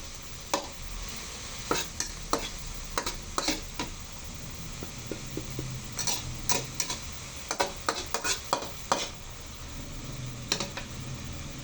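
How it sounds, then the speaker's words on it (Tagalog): Ground pork cooks in a pan for misua soup, a low steady sizzle broken by frequent sharp scrapes and clacks of a spatula stirring the meat, close and without talking. "Antayin lang po natin na maluto yung giniling at lumabas yung katas."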